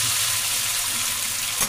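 Hot oil sizzles in a pan with kasuri methi and crushed boiled potatoes, a steady loud crackling hiss throughout, with a small clatter near the end and no talking.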